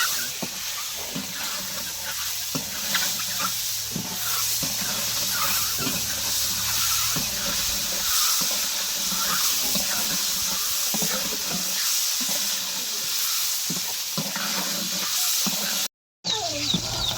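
Duck eggs fry in a pan over a fire with a steady, crackling sizzle and hiss, joined by occasional stirring and scraping; a brief dropout near the end breaks the otherwise continuous sound.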